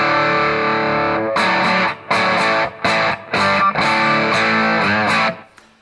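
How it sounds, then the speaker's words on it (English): Electric guitar driven through a D&M Drive pedal into a Hampstead overdrive on a preset, playing loud, saturated chords in choppy bursts with short gaps, ending in a brief fade. "At the moment, I've got the D&M drive going into a Hampstead on preset 2."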